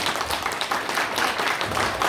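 Company staff audience at a 2023 New Year kickoff and all-hands meeting claps steadily, a dense, even patter of hands filling the room for about two seconds without a break.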